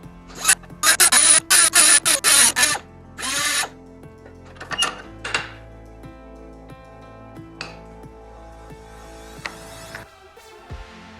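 A power tool grinds back protruding bolt thread on a blowpipe rifle built from plumbing parts. It gives a loud series of short, sharp bursts at the start, then a longer burst, followed by quieter mechanical clicks and ringing.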